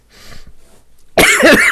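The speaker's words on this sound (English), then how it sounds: "Turns out coughing kind of helps." A single close, loud cough bursts out after a quiet stretch of faint breathing, harsh and raspy as someone clears something swallowed the wrong way during a live podcast.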